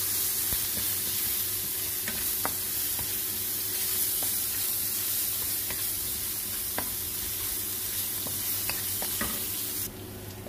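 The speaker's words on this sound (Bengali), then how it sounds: "এখন এইভাবে একটু নেড়ে দিব চামচ দিয়ে।" Panch phoron, ginger and green chillies sizzle steadily in hot oil, with occasional clicks of a spoon stirring the pan up close and no voices.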